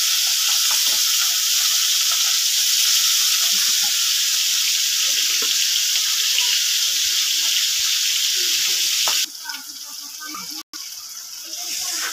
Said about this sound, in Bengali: এই যে গরুর মাংস রান্না হচ্ছে।